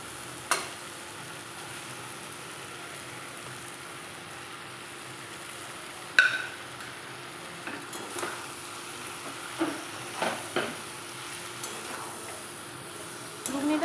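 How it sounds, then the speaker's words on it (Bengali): Boiled peas go into frying masala for vegetarian ghugni, a soft steady sizzle punctuated by several sharp scrapes and clinks of stirring in the pan, with a little talk. "মশলাটা আমার ভালোভাবে কষানো হয়ে গেছে। এরপরে আমি সেদ্ধ করা মটর দিয়ে দেবো।"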